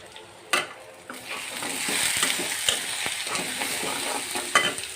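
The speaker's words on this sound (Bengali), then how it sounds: "মশলাটাকে কষিয়ে নেই" Spice masala with chili and coriander powder frying in a pan for a fish curry, a loud continuous sizzle with repeated sharp clacks and scrapes of a spatula stirring close by, no talking.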